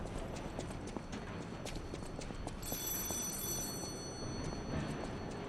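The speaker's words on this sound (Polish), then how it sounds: "Dzwoni telefon?" A telephone rings in the game Lies of P. A faint bell-like ring begins partway through over quiet background noise and soft clopping footsteps.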